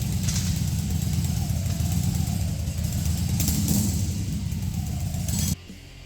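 An old cruiser motorcycle running after repair, its engine idling steadily and loudly up close with slight revving, then cutting off abruptly near the end.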